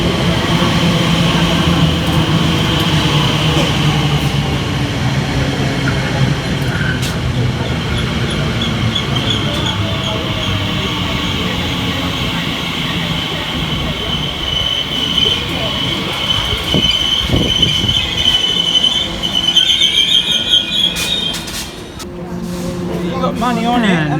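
Elizabeth Line Class 345 electric train at a Great Eastern Main Line station, a long continuous rumble of wheels and motors with faint squeal and a distant announcement and crowd murmur beneath.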